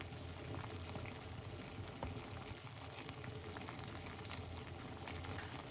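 Parsley and lemon tea simmering on the stove, a continuous dense bubbling hiss that stays even and fairly close throughout with no talk.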